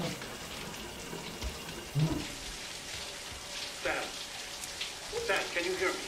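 Shower water runs steadily in the video game Death Stranding, a soft continuous hiss and patter with faint clunks and thumps over it, no talk.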